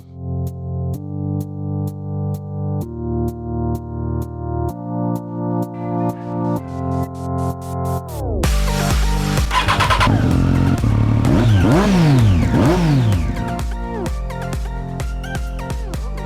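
A 2015 Harley-Davidson Street Bob engine running up close, first with a steady rhythmic pulsing idle, then growing louder and rumbling as it is revved and the pitch rises and falls, no voices heard.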